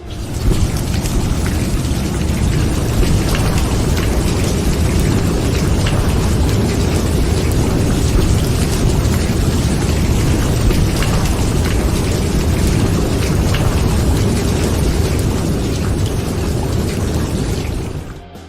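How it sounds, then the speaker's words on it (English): Heavy rain pours down in a steady, dense roar during a thunderstorm, with a low rumbling underneath that never lets up and no voices. "Now, there's a lightning and thunderstorm."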